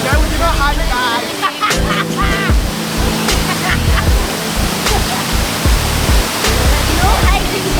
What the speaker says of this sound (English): we are at the waterfall. This is the waterfall.